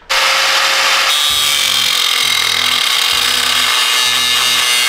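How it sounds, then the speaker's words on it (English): Grinder trimming a Cummins engine block, a loud harsh continuous whine with the motor load pulsing roughly every second as the disc bites metal, close and alone. "So we'll go grab a grinder and get that taken care of."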